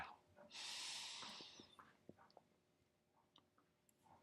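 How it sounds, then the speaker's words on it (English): Early on, one long, close inhale rushes in for about a second during a guided meditation, then fades, followed by faint clicks and small mouth noises in near silence. "Taking a deep breath in, inhale."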